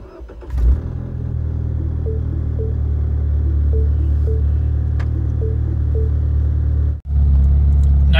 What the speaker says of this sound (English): put your key in the ignition and start your car